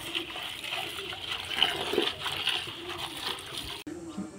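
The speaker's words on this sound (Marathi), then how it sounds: "पेरूची पानं काढलेली आहेत, ती आता स्वच्छ धुवून घेऊया." Guava leaves being washed clean of soil in water, an uneven swishing and splashing that rises and falls, fairly faint, cutting off abruptly near the end.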